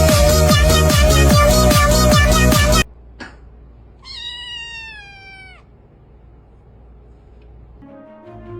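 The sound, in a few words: cat meowing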